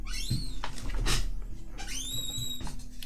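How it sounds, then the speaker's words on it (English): A close office chair squeaks in high, rising whines, two or three strained creaks with dull knocks between, no talking. "My chair is a little squeaky, yes."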